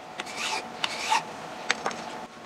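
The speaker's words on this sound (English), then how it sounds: "Put some light down pressure on the file, and do some nice diagonal strokes so you can get a lot of the piece with one stroke." A hand file rasps across a metal piece held in a vise in several long diagonal strokes, a close, even scraping with slight pauses between passes.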